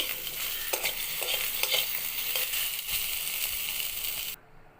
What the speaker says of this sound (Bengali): আলু বেগুন গাজরটা ভেজে নিলাম